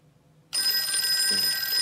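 A telephone bell starts ringing abruptly after a brief quiet moment and keeps sounding loud and steady to the end, with no talk over it.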